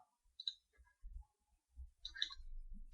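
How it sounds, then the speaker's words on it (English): Single keyboard key presses on a computer keyboard, a few sparse, quiet clicks separated by pauses in a near-silent room. "I'm creating them by pressing the N key on the keyboard"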